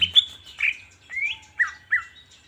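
A green leafbird (cucak ijo) in breeding condition calls with about five short, bright whistled chirps spaced through a couple of seconds, close and fairly clear, with no voices.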